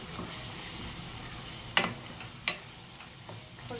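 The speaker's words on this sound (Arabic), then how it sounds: "نحرك هادشي" Spiced food is stirred in a sizzling pan, a soft steady frying hiss broken by two sharp scraping knocks of the utensil, close and fairly quiet.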